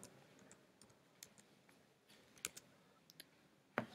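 Sparse computer mouse clicks tap out at irregular intervals, several sharp, close clicks with a louder one near the end, over quiet room noise.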